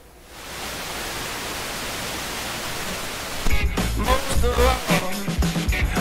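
A McIntosh MR71 FM receiver after IF refinement gives a steady hiss of static for about three seconds. Then louder broadcast program audio breaks through, somewhat dull in tone.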